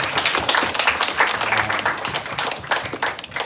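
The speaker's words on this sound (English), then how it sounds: "Let's give them a big round of applause." An audience at a teen dating violence awareness event claps together in a close, dense round of applause that stays steady and then tapers slightly.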